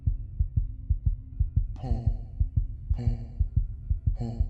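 A steady, rhythmic heartbeat thumps low and close, with brief bursts of brighter noise breaking in three times.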